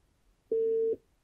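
A single short electronic call tone through the infotainment system of a 2021 Suzuki Cultus VXL, a steady mid-pitched beep lasting under half a second, clean and alone against near silence.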